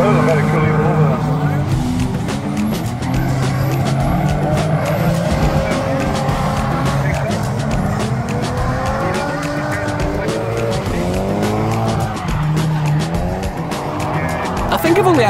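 Drift cars at Crimond Raceway roar with loud, sustained engines and repeated screeching tire squeals throughout, dense and close, while people talk over the noise.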